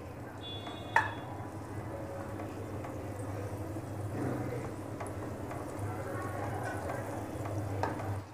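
Butter melting and frying in a pan for white sauce macaroni, a soft continuous sizzle with a low steady hum beneath and a single light clink, close and fairly quiet, no talking.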